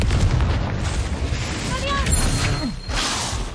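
In the video game Hogwarts Legacy, a Confringo spell explodes with deep booming blasts amid loud, continuous battle noise and voices, with a fresh burst near the end.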